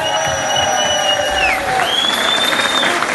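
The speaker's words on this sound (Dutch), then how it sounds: "Mooi nog een keer applaus voor Hupke!" Audience applause with cheers and whoops after a garde dance solo, a dense steady roar of clapping filling the room, with some whistling and shouting riding on top.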